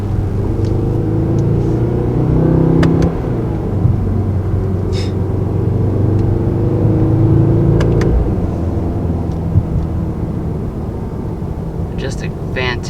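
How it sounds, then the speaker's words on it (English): A 577 hp 2019 Mercedes-AMG GT 63 4-Door engine rumbling steadily from inside the cabin in manual shifting mode, a deep continuous drone that shifts in pitch around each gear change, with a voice speaking over it. "Just a fantastic sounding engine."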